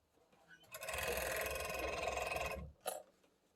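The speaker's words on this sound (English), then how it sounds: "I start on my serger there." A serger sewing machine runs a seam joining mitten pieces, giving a close, steady mechanical chatter for about two seconds, then stopping with a brief final whir.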